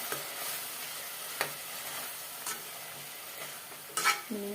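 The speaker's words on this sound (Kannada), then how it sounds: "ಚೆನ್ನಾಗಿ ಮಿಕ್ಸ್ ಮಾಡ್ಕೋಬೇಕು ಇದರಲ್ಲಿರುವಂಥ ಹಸಿ ಸ್ಮೆಲ್ಲೆಲ್ಲ ಹೋಗಬೇಕು" Mint pulao masala stirred and fried in a pan, a low steady sizzle broken by a few scraping strokes of a spoon, close and quiet with no voices.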